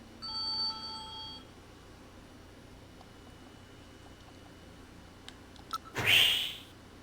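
A mobile phone rings with a short tonal chime pattern near the start, then a brief brighter ringtone burst near the end, both fairly faint against a quiet room.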